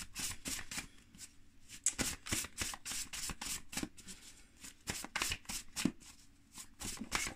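Tarot cards being shuffled and drawn by hand, a quick run of soft, papery riffling flutters and slaps, close and fairly quiet, in an irregular rhythm with no talking.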